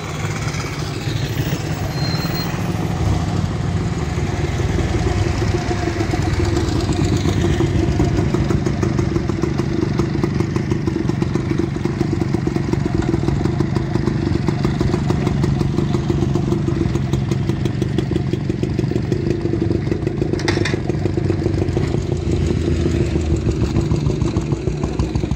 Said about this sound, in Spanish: A esta moto le están empujando.